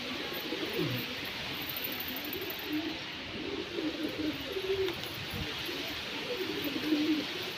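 Pigeons coo softly and steadily through a hand-training session, their low murmuring calls repeating over a constant background hiss, faint and somewhat distant, with no clear talking.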